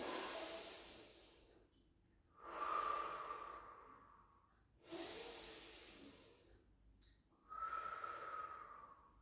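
Slow, deep breaths in and out during a pilates exercise, four airy hissing cycles close to the microphone, with no talk.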